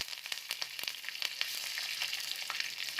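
Curry leaves crackle in hot oil during tempering for a South Indian chutney, a dense steady sizzle with sharp spattering pops and stirring scrapes throughout, close and moderately loud.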